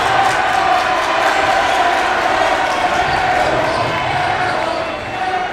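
Crowd at a boys varsity high school basketball game, Kirkwood vs Lindbergh, a loud, sustained roar of cheering that holds steady before easing slightly near the end, with a commentator's voice faintly underneath.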